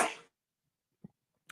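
A single sharp sneeze comes close and loud at the start, then cuts off into near silence with only a faint knock and a short noise afterward.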